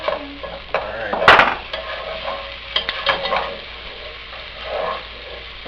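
Chili with diced tomatoes and onions being stirred in a pot, uneven scraping and clinking of a spoon against the metal with one sharp clank early on, over a low simmering sizzle.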